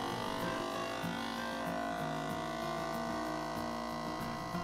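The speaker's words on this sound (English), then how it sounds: "These vacuum packing machines are a modern wonder." A vacuum packing machine pumps the air out of a bag holding a homemade Parmesan-style cheese, giving a continuous, moderately loud droning hum with a faint rhythmic pulsing that runs steadily throughout.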